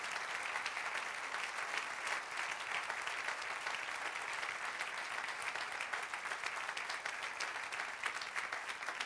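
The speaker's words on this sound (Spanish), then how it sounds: "Dale aplauso al Señor." A church congregation at a Spanish-language service applauds steadily and loudly, a dense, even wash of many hands clapping that continues for several seconds without a break.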